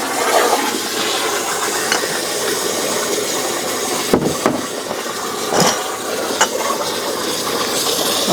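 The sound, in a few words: water filling a canning pot with jars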